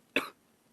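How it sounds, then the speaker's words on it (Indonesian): A single short, sharp cough from a young man, close and loud, lasting a fraction of a second before quiet. "Maaf kalau aku batuk"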